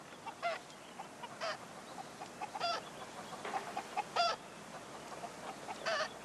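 Chickens on a peasant farm cluck and squawk in short, irregular bursts, fairly close, over a faint outdoor background with no talking.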